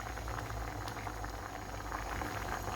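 A pot of tilapia stew bubbles at a rolling boil, a dense, continuous burble of popping bubbles heard up close with no talking.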